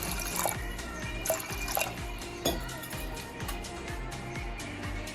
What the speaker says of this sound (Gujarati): પાણી એડ કરીશું અડધો ગ્લાસ જેટલું।